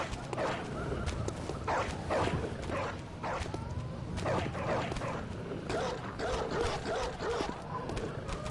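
A dog barks a few times in the Bloodborne video game, yipping sounds mixed with creaks and ambient game noise at moderate distance, without clear talk over it.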